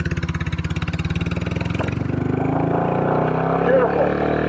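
A Royal Enfield California Goan 411 motorcycle engine runs close by with a steady rhythmic thumping idle that swells into a louder, smoother rev, with a voice talking over it.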